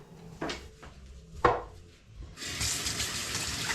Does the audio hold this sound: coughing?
no